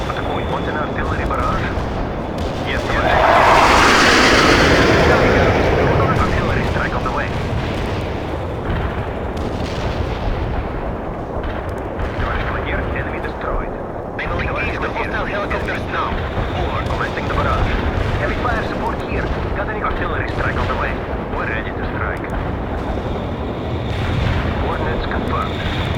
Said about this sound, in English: Want an artillery barrage?